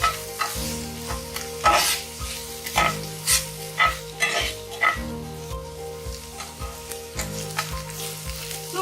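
Onion sizzles in hot oil in a pan for a spicy dhaba-style bhindi do pyaza, loud and steady, while repeated scraping stir strokes come in an uneven rhythm and music plays underneath.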